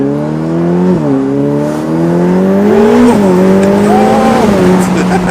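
Ferrari sports car accelerating hard, its engine climbing steeply through several gears with quick shift dips, loud and close throughout.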